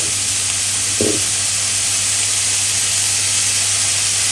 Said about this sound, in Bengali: আমি এখানে চিকেন আর সবজিটা একটু ভেজে নিব